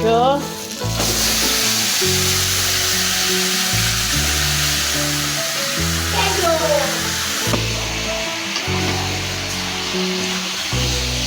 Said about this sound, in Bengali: পেঁয়াজটাকে একটু কিছুক্ষণ ভেজে নিয়ে তারপর মাংসটাকে দিয়ে দিচ্ছে